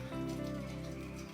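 Raindrops fall steadily in the Carpathian mountains, a soft close patter on a surface over a low continuous hum, with no voices.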